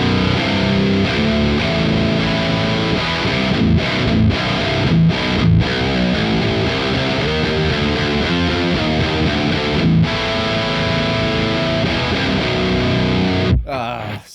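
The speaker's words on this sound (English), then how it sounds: "Let's try the fat switch." An electric guitar runs through a Revv Generator 100R amplifier with the fat switch engaged, producing thick, loud distorted riffing with brief stops, then cutting off sharply near the end.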